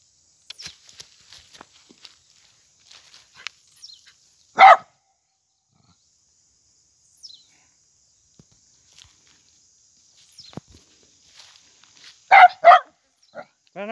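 A dog barks outdoors in short bursts, one bark early and a quick double bark later, with quiet rustling in between.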